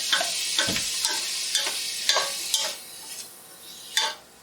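Ground meat with celery and onion is stirred as it browns in a pan, a steady sizzle broken by repeated scraping strokes of the spoon, close and alone.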